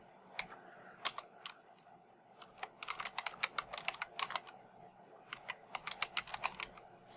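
Irregular bursts of computer keyboard typing, quick clustered keystrokes with short pauses, fairly close and clear while a sign is written in Minecraft, with no talking.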